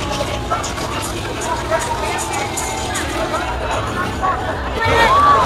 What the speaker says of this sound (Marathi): गर्दी बघा मित्रांनो किती सगळी गर्दी आहे बघा.